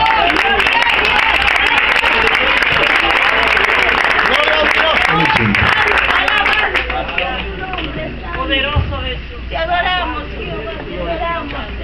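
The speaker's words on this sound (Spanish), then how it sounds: "Denle un aplauso al Señor" A church congregation claps at a Thursday night service, dense sustained applause mixed with loud voices and crowd noise, thinning into scattered claps and talk toward the end.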